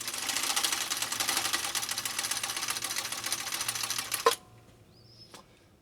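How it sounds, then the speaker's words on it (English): A 1961 Viking Husqvarna 19E sewing machine hammers a straight stitch through two layers of thick elk hide in a fast, loud, steady chatter that stops abruptly, followed by a faint clunk and quiet. "We're going to lay down a straight stitch through 2 layers of this."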